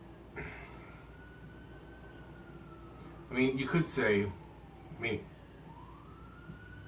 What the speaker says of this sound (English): I don't know why that, those sirens are running.